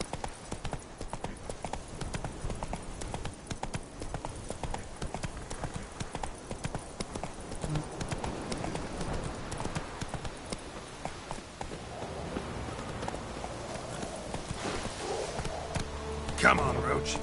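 Roach, the horse from The Witcher 3, gallops with a fast, steady clip-clop of hooves throughout, while voices and game ambience play underneath.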